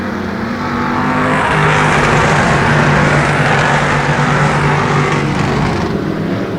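Dirt track race cars roar around a speedway in a dense, loud, continuous wash of engine noise, a sustained engine drone running through the pack of cars as they race.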